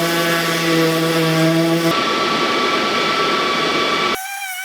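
A Oneida benchtop dust collector runs with a loud, steady motor whine and broad rushing noise while sanding goes on. The tone shifts partway through, then the roar cuts out sharply, leaving a fainter hum.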